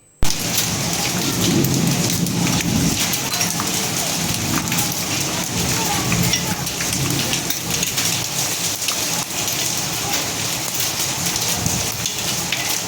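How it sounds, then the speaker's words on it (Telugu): A hailstorm at Tadepalli pours down in a loud, dense roar of rain and hail hammering surfaces, with rolling thunder rumbling underneath for the whole stretch and no voices. "తాడేపల్లిలోని వడగళ్ల వాన కురిసింది"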